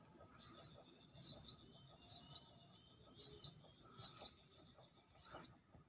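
A sogon bird in the wild gives six evenly spaced, high, piercing chirped calls, fairly close and clear, over a faint background of insects and distant ambience, with no talking.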